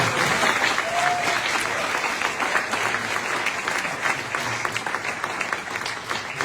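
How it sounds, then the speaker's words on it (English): A large church congregation at a Sunday baptism service applauds continuously, a dense, steady wash of clapping that stays loud throughout with a few cheers mixed in. "Let's give him a round of applause."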